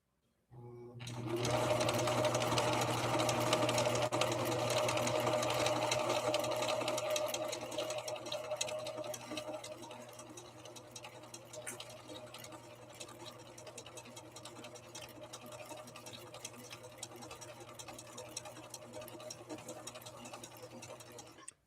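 A Viking Husqvarna 6430 sewing machine runs a stretch straight stitch, a steady close mechanical whir with fast regular needle ticking, louder for the first several seconds and then settling to a lower even hum.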